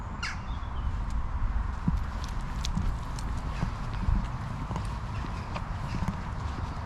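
Small horses walk with steady hooves clip-clopping close by on the old driveway at Boom Hall in Londonderry, and crows caw faintly in the background.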